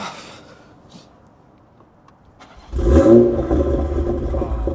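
A stage 2 Toyota Supra MK4 six-cylinder engine cranks and fires after a quiet pause, then settles into a loud, deep, rumbling idle close by, with faint talk early on.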